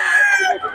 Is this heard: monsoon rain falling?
no